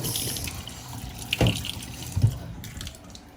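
Tap water runs into a bathroom sink during rinsing, a soft steady splash with a couple of brief clunks and drips as something is rinsed under the stream.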